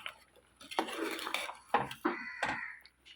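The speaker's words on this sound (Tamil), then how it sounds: "மெதுவாக கிண்டி விடலாம்." A ladle clinks and scrapes against a pot while fish curry is gently stirred as it simmers over low heat, giving a few short, close metallic knocks and scrapes spread over a few seconds with no talking.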